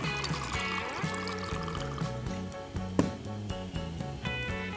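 Alcohol pours into a glass for a mule cocktail in one continuous stream of about six seconds, close up, with a rising liquid gurgle and no talking.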